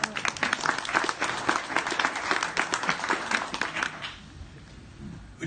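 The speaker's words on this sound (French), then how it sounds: "On l'applaudit." An audience at a business conference claps together, with distinct individual claps audible in a lively, steady burst that fades after about four seconds into quieter room noise.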